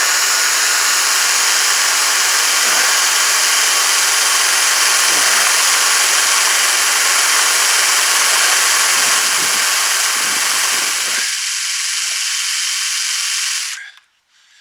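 A power drill whirs continuously at high speed, a loud, steady hissing drone that cuts off abruptly near the end.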